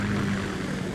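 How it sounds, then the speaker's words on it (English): A Kamov K-60 Kasatka helicopter from Metal Gear Solid 2 drones steadily with a low rotor and engine hum, loud and continuous with no voices over it. "Kasatka? Kamov chopper, right?"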